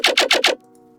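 A tearout synth bass layer programmed in FL Studio plays alone, four loud, evenly spaced growling hits in quick succession that then cut off abruptly, leaving a faint low hum.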